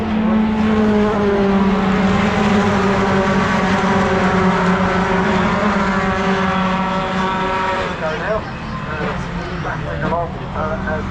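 Pickup trucks racing at Brands Hatch, their engines droning loudly and continuously with shifting pitch as the pack passes, heard under ongoing commentary.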